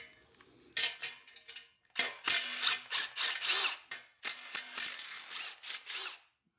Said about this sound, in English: There are two 15 mil bolts as well as nuts on here. So I'm just going to take them off.